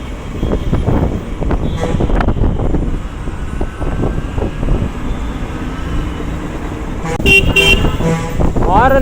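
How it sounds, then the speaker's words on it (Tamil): An Ultraviolette X-47 Recon electric motorcycle sounds its horn in a short honk near the end, rising over steady road and traffic noise during a test ride. "ஒரு காரு பெரிய லாரி ஹாரன் மாதிரியே இருக்குது."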